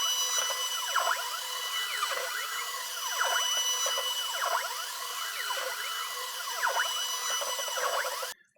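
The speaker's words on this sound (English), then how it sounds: "I'm going to switch to a ball nose cutter, and I'm going to finish up machining this little contour here" A ball nose cutter machines the contour of a wooden guitar body where it meets the neck heel, giving a steady high whine that swells in a regular sweeping rhythm roughly every second before stopping abruptly.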